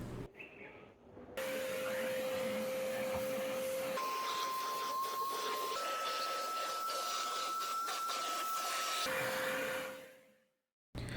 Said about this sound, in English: So this is the vacuum that I'll be using to clean the car